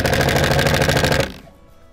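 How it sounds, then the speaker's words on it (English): An impact driver hammers washer-head self-tapping screws into a bus window screen frame, a loud, rapid, steady rattling burst that stops abruptly, leaving a faint quiet tail. "So now using your impact driver along with your washer head self-tapping screws,"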